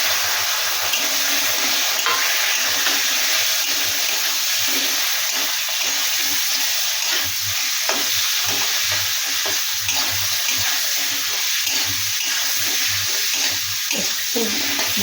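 Chicken pieces with bay leaf fry in a pot while being stirred, a strong constant sizzle overlaid with rhythmic scraping and clattering of a spoon against the pot.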